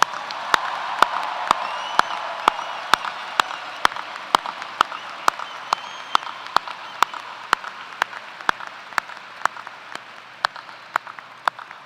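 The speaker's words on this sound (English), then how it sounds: "now's a good time to applaud" A large convocation crowd at UW-Madison's 2022 ceremony applauds the faculty with sustained, even clapping and sharp, regularly spaced claps standing out above the wash.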